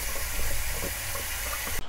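Cold tap water runs in a steady hiss as sweet potato stems are rinsed in a kitchen sink, brief and continuous with a sudden stop at the end.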